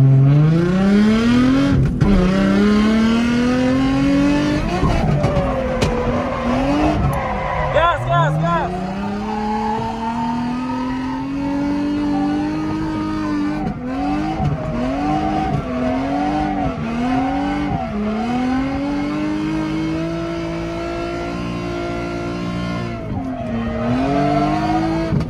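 A drift car revs hard with long rising engine notes and squealing tires at a drift event, loud and sustained with brief pauses between surges, while people talk nearby.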